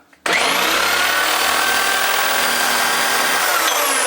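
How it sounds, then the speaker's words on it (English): An electric drill starts abruptly and spins a Subaru Impreza alternator with a freshly changed bearing, a loud steady whine and rushing hum held at constant speed until the end. "The drill's on the same speed."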